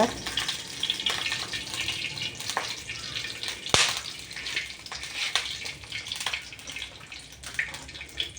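Mustard seeds spluttering in hot oil for lemon rice, scattered sharp pops and crackles over a soft sizzle, fairly close, with a few louder bursts standing out.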